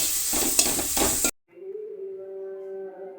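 Pickle ingredients with ginger paste sautéing in a pan give a loud, crackling sizzle with stirring scrapes for over a second, then cut abruptly to quiet, leaving a faint tonal hum.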